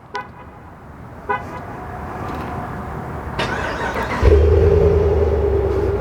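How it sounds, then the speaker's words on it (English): Remote start of a 2021 Ram 1500 Limited HEMI V8 pickup: a couple of faint clicks and chirps, then the engine cranks and catches with a sudden loud rumbling roar that settles into a steady idle, close by. "Let's see the startup of it, because this one does have the remote start as well"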